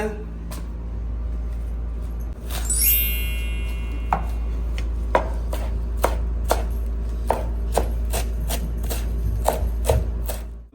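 Garlic being crushed for a pepper chicken and ghee rice meal gives a run of regular, sharp knocks, roughly one every second, over a steady low hum.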